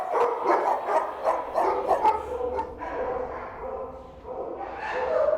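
Many dogs bark repeatedly at a Scottish SPCA animal rescue centre, a busy chorus of yaps and barks with a narrator speaking over them.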